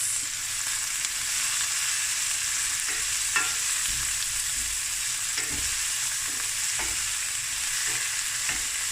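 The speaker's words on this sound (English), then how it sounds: "I don't want to fry this too long" Prawn and lentil spicy rice ingredients fry in a pan with a steady, loud, close sizzle, broken by occasional scrapes and taps of stirring, with no talk.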